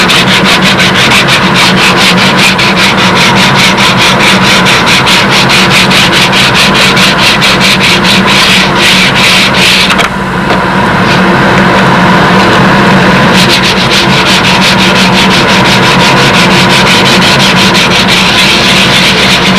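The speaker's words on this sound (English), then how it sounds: "we'll finish up the night by just getting a final sanding on this." Steady, continuous rubbing and scraping of sanding blocks worked by hand over an A-26 wing part, loud and close throughout with a brief lull partway through.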